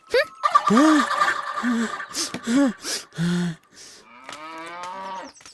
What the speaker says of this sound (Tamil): இது பசுமாடு.